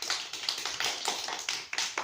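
Children clapping their hands at a kids' yoga session, a quick run of about a dozen light, close claps in a steady rhythm.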